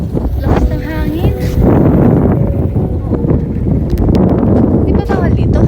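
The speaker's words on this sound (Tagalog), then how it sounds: "Lakas ng hangin." Strong wind buffets the microphone outdoors, a loud continuous roar and rumble with people talking intermittently beneath it.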